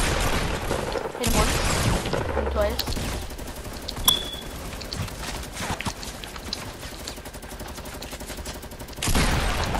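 Rapid bursts of gunfire from the video game Fortnite rattle through most of the stretch, with scattered sharp shots standing out, mixed with background game noise and occasional voices.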